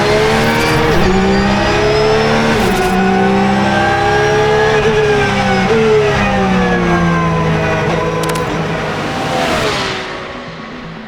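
A Porsche endurance race car under test in Qatar roars past loud and close, its engine holding a high, buzzing pitch that rises and dips through gear changes before fading slightly at the end.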